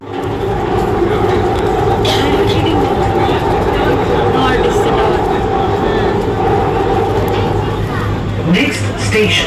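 A Hyderabad metro train runs on its rails with a loud continuous rumble and rolling rail noise, interior hum and occasional higher squeals, heard inside the carriage.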